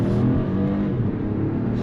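A BMW car engine accelerating hard at full throttle, a steady loud rumbling drone close to the microphone with no talking.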